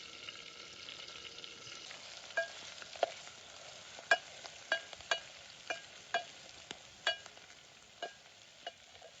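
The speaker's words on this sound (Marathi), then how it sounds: "चांगला मस्त तो मसाला बी तळून घेतला." Spice masala frying in ghee in a pan for stuffed eggplant, a soft steady sizzle with a series of sharp scraping stirs and clinks that come every half second or so, close by and with no voices.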